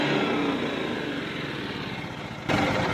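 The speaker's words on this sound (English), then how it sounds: "I'm going to rev it up to 72 hertz and it should shut down" A Generac generator engine runs at high, steady revs during an overspeed test toward 72 Hz, a loud continuous drone with a sudden shift in tone near the end.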